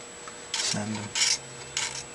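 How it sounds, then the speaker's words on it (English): Back of a knife blade scraping the mold line off a plastic model car part, three short dry rasping strokes separated by brief pauses, close and fairly quiet. "I just take the back side of the knife and just scrape the mold line off"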